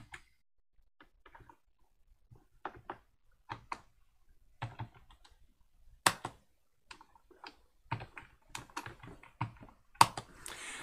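A change-directory command being typed on a computer keyboard at a Linux command line: sparse, close, crisp key clicks in uneven bursts, ending in a quicker run of taps and a sharper keypress, with no talking.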